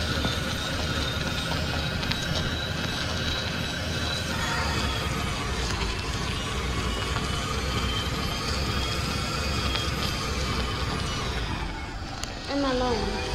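A Tesla Model 3 drives in the Roblox video game, its engine a loud, steady droning roar that holds constant before dipping briefly near the end.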